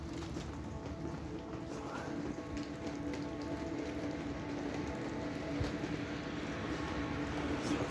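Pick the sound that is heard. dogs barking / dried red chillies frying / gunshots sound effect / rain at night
rain at night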